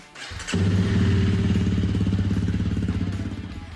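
A Honda CRF300 Rally motorcycle engine catches and settles into a steady, close, throbbing single-cylinder idle with a rapid even pulse that fades slightly toward the end.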